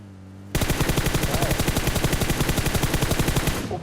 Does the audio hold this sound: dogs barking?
no